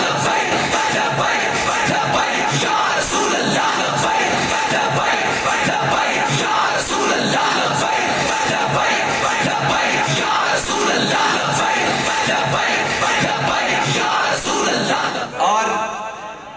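A large election rally crowd roars and chants a religious slogan in unison, a dense, sustained wall of massed voices and yells held loud and steady throughout before briefly dipping near the end.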